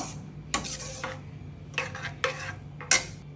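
A spoon stirring dantina soppina saaru, a soppu curry, in a metal pot makes four sharp scraping clatters spread across a quiet background, each one brief and close.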